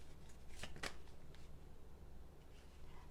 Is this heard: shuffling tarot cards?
yes